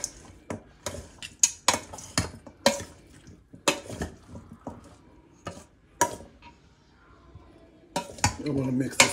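Spoon scraping and clinking against a pot while curry goat meat is mixed by hand-held utensil, a series of sharp irregular metallic knocks and scrapes at close range, with a louder wet stirring rustle toward the end.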